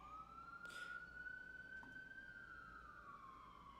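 A single emergency siren wails through a New York City street, its steady tone rising slowly and then falling, heard at moderate distance above a constant hum of city background noise.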